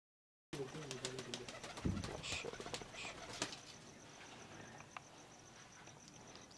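An old Bankay pigeon with dark black eyes coos softly close by, with brief wing flaps and light rustling, all quiet.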